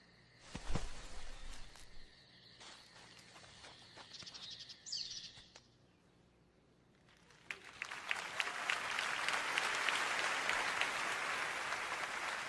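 Quiet outdoor woodland ambience with bird chirps, faint insects, and a rising rustling wash of leaves or rain later on.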